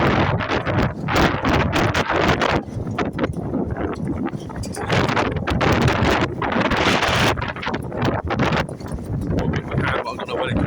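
Heavy wind buffets the microphone beside a flooded seafront, a constant loud roar and rumble with gusty swells that persist throughout the clip.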